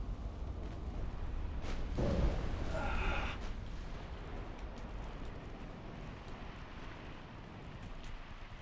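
A torpedo hits a warship in the naval game Ultimate Admiral Dreadnoughts: one muffled, low explosion booms and rumbles briefly over a steady background of sea and wind, then fades.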